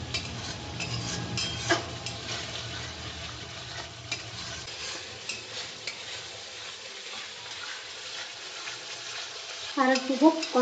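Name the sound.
stirring and frying spice masala with yogurt for doi katla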